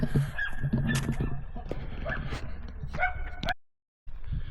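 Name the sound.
dogs barking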